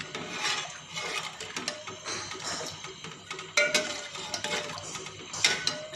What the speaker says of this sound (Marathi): ते आपण सतत हलवत राहायचं